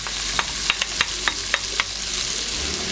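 Chopped onion sizzles in a hot pan while a utensil stirs it, sharp scraping clicks landing at irregular intervals over a constant close frying hiss.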